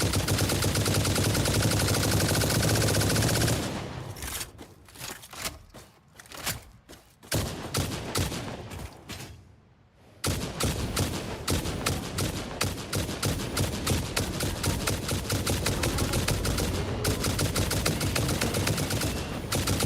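Rapid gunfire from a weapon in the video game Satisfactory, a dense, loud stream of shots running almost without pause, with a brief lull partway through before the firing resumes steadily.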